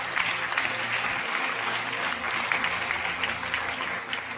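A church congregation applauds after the scripture readings, a dense, even wash of clapping at moderate distance that holds steady for several seconds.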